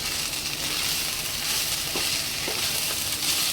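Soaked basmati rice frying in a pan for pulao, a steady close sizzle with a few faint stirring scrapes.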